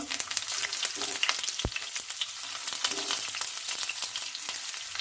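Sliced onions fry in hot oil in a wok for a pork curry, giving a steady, dense close-up sizzle with faint stirring scrapes and one sharp knock partway through.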